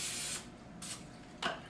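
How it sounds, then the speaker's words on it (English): Three short hissing bursts of cooking spray from a can misting into a ramekin, close and fairly quiet, each lasting under half a second. "Now I'm gonna spray this."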